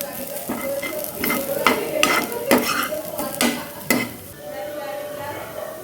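Chopped onions fry in oil until crisp and brown, giving a close sizzle under a run of quick spoon scrapes and clinks against the pan, which fade to a softer steady frying at the end.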